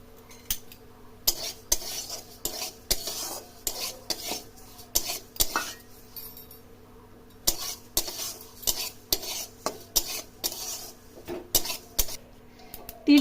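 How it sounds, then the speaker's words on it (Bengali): Sesame seeds dry-roasting in a pan for a sesame and jaggery pitha filling, heard as repeated scraping and stirring clinks of a utensil against the metal pan, steady and close, with no talking. "শুকনো খোলাতে আগে তিলটাকে আমি ভেজে নেবো"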